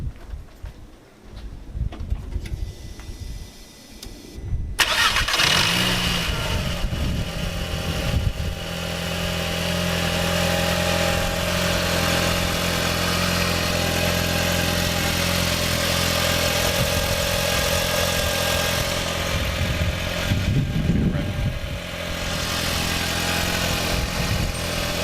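A VW Golf Mk4 1.8T engine, fitted with a new front-mount intercooler, cranks briefly and catches, then settles into a loud, steady idle that runs on close by.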